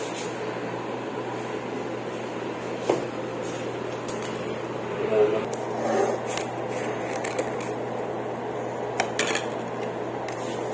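Spoon and cup sounds from sugar being added to coffee in a hospital room, a few light clinks and scrapes of a spoon against the cup, faint and sparse over a steady hum of room noise.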